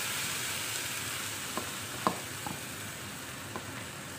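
Browned onions sizzle in a pan as chopped tomato goes in for a sweet tomato chutney, a steady soft hiss broken by a few light clicks and scrapes, close and fairly quiet with no voices.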